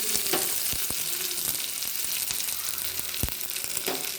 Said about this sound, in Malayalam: പച്ചമുളക് ഇതൊന്ന് ചെറുതായിട്ട് ചൂടായാൽ മതി.